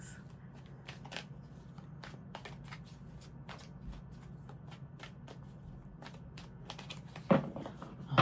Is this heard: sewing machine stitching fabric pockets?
no